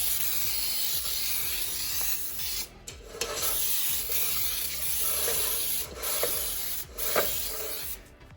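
Cooking spray hisses into a pan in a steady spray that runs almost continuously, with a few brief gaps, close and fairly loud.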